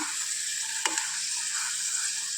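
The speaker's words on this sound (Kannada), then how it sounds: "ಎಣ್ಣೆಯಲ್ಲಿ ಒಂದು ಎರಡು ನಿಮಿಷ ಫ್ರೈ ಮಾಡಿಕೊಳ್ಬೇಕು" Horse gram seeds fry in hot oil with a steady, bright sizzle, broken once by a brief clink of a utensil, with no one talking.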